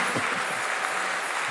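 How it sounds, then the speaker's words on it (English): Congregation clapping at a church festival gathering, a dense steady wash of applause filling the whole moment with no pauses. "Clap like warriors."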